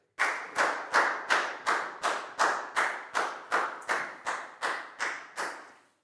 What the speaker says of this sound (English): Big round of applause for Dan, please, guys.